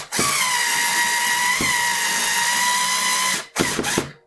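Power drill boring holes into a window frame to mount horizontal blinds: one sustained high whine at constant speed, close and loud, then a short pause and two brief bursts as the trigger is pulsed.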